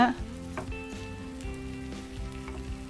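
Green gram paniyaram batter fries in a pan, sizzling steadily and close up with a few small crackles and pops.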